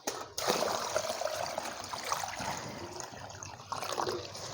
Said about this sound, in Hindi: इसमें पानी डाल दो भी।